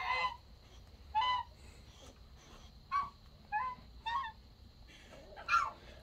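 Geese honk repeatedly on a farm shared with ducks, chickens and dogs, giving about six short nasal calls spaced irregularly over steady low background rumble, moderately near.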